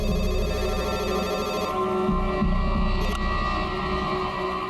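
A mobile phone rings with a steady electronic tone over a low background hum, continuing throughout without voices.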